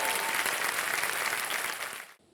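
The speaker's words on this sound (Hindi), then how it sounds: "तालियां बज जाए इनके लिए एक बार फिर।" A studio audience at a TV quiz show claps in dense, sustained applause that fades out after about two seconds, with no talking.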